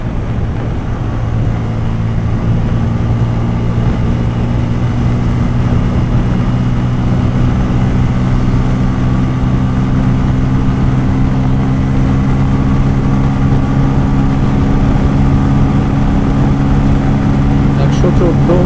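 Bajaj Pulsar N160 motorcycle engine roars steadily at high revs during a top speed run on a road in Bangladesh, with loud continuous drone and strong wind rush, while speech sounds come and go.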